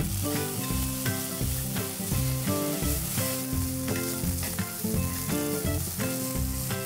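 Pasta and chicken strips sizzle loudly in a hot pan as they are stir-fried, with steady frying and bursts of tossing and scraping close by, with no talking.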